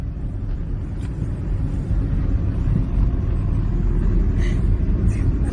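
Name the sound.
car driving on road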